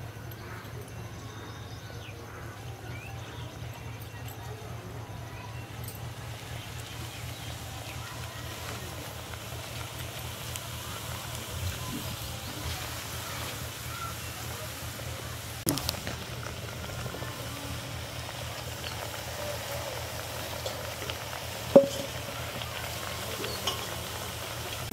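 Semolina golgappa puris fry in hot oil, a steady, soft, rain-like sizzle and crackle that runs throughout with a few faint clicks and knocks.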